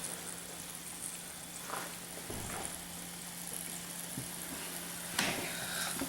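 Pretzel-shaped dough rings frying in a pan give a steady, quiet sizzle with a constant low hum beneath and occasional soft stirring clatters.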